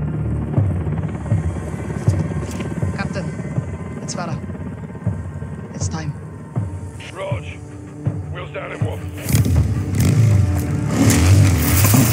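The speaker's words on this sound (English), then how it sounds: "Stay in the heli on Overwatch." Helicopter in Call of Duty: Modern Warfare 2 throbbing steadily throughout, mixed with game engine rumble and other action sounds, under radio-style voices talking, growing louder and denser toward the end.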